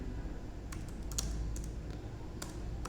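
A computer keyboard is typed on at close range, with a few soft scattered keystrokes and small clusters of taps against a steady low hum.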